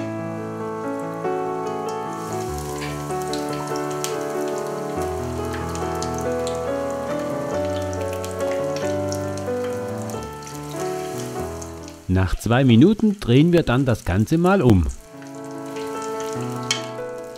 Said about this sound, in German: dann tauchen wir die Fleischstücke in den Tempura-Teig und geben diese dann gleich danach in die Pfanne.